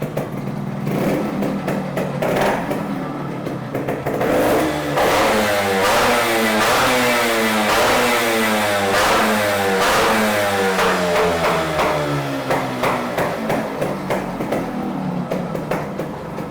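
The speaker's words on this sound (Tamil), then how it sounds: "ரேவ் பண்ணுங்க." The RX Japan 100 motorcycle engine runs loud and close, revving up and down repeatedly in a continuous throbbing drone with a pulsing exhaust note.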